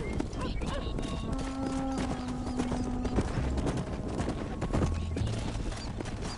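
Steady hooves clip-clop at a walking pace from horses in Red Dead Redemption on PS5, moderately close, with faint tonal ambience and occasional distant game sounds around them.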